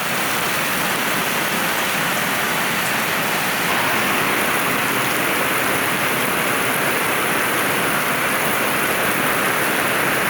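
Heavy rain pours steadily at an RV basecamp, with water flooding over and running off a concrete slab, a loud, dense, unbroken hiss that fills the whole scene with no voices.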